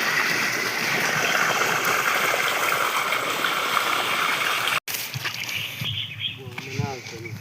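Irrigation water rushes and gurgles into a farm field's beds, loud and steady for several seconds, then a softer trickle continues under a voice near the end.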